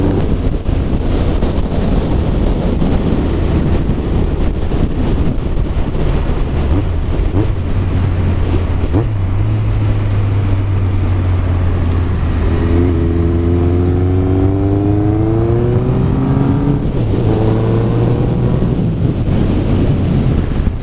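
A Honda CB1100 motorcycle rides along the road, its steady engine drone rising and falling in pitch as it shifts and accelerates, mostly buried under loud, constant wind roar.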